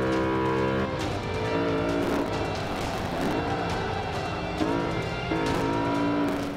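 BMW M5 racing in Forza Motorsport 5, with a loud, continuous engine roar that climbs and drops through gear shifts, with brief tire squeal and no talk.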